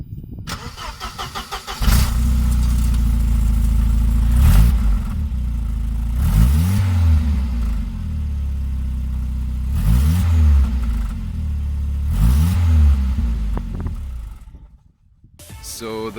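Volvo 940 engine with its stock catback exhaust and single muffler starting and revving repeatedly, loud rising and falling roars over a steady idle rumble, close by with no talking.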